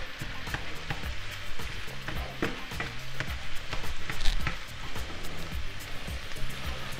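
Pork sausage and ground beef fry in a pan for chili with a continuous crackling sizzle, broken by scattered pops and scraping stirs close by.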